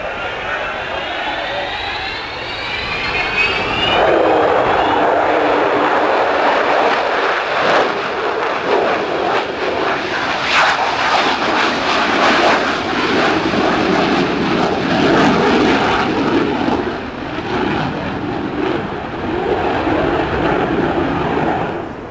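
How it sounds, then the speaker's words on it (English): The Avro Vulcan XH558 jet bomber, with four Rolls-Royce Bristol Olympus 202 two-shaft turbojets, roars past at an airshow display. A loud, sustained rumbling thunder builds in pitch and then holds steady, and an announcer talks over it. "Sound of those four Rolls-Royce Bristol Olympus 202 two-shaft turbojet engines"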